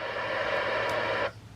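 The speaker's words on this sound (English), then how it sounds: "noise, we've got white noise" A vintage radio set with a squelch control hisses with loud, steady white noise for just over a second, then cuts off sharply to near silence.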